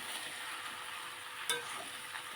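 A potato and pasta mixture is stirred in a pan, a soft continuous sizzle with one brief scrape of the utensil partway through, fairly faint.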